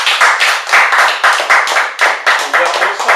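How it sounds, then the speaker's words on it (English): A group of people claps in steady unison, loud and close, giving Justin a rhythmic round of applause with about a dozen sharp beats in three seconds and no talking. "let's give it up for Justin"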